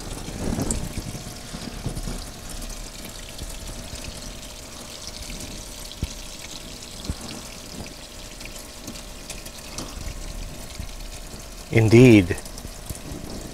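Water runs steadily into a washing machine on a wash day, a soft continuous pour and trickle at moderate distance, with a brief spoken word near the end.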